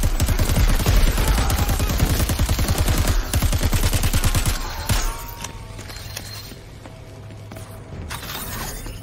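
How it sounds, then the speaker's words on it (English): A machine pistol in Crackdown 3 lets off a long, rapid close-range burst for about five seconds, loud and rattling, then stops and leaves a low hum with faint mechanical clicks. "This machine pistol is all about filling the air with lead at close range."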